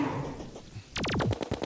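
Rapid gunfire in the Terraria video game, starting with a few scattered shots and then breaking into a fast burst of sharp, evenly spaced rounds over a busy game soundscape.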